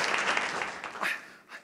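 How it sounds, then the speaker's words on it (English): A live audience at a keynote talk on creative thinking and magic claps in a dense, steady round of applause that fades near the end. "Give him a clap."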